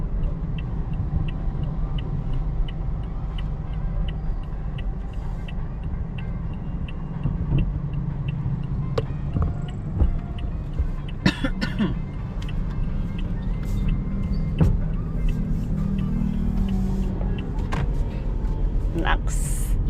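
A Toyota Vios cruising on a highway at about 40 kph gives a steady low engine and road rumble. Scattered light ticks and clicks sit on top, and people talk over it.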